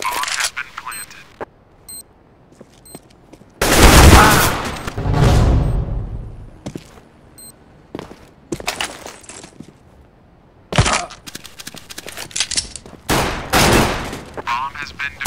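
Gunfire in the game CS:GO: loud bursts of rapid shots in several clusters, with a long echoing burst early on, short beeps, and a voice talking between volleys.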